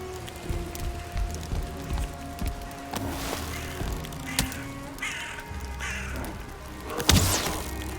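A crow caws a few times in a video game at nighttime, set against a steady patter of rain and a low ambient game soundscape, with a sharp thwack near the end.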